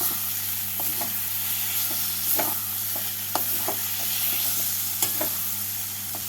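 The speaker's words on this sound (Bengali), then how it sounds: "এর মধ্যে আলুগুলোকে দিয়ে মশলার সাথে ভালো করে মিশিয়ে নেব" Potatoes stirred into sizzling spice masala in a pan for a catfish curry, a continuous frying hiss with repeated scraping stir strokes and light clinks up close.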